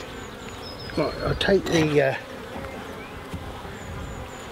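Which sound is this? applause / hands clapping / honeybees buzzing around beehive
honeybees buzzing around beehive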